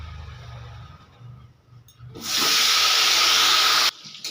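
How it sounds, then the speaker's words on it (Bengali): Eggplant pieces fry in oil for a Bengali potato-eggplant curry with catla fish head: a quiet low rumble first, then a sudden loud, steady hiss for about two seconds that stops abruptly. "বেগুনটা প্রথমে আমি ভেজে নেব"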